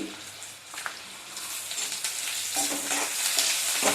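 Cumin and Kolhapuri thecha ingredients roast in a pan, crackling and sizzling steadily with scraping stirs, the frying growing busier and brighter toward the end, with no voices.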